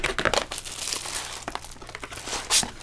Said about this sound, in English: there's a piece of craft paper.